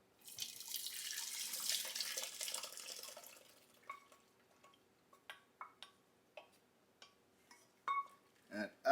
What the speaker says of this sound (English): So once your noodles are nice and boiled, we're going to strain them.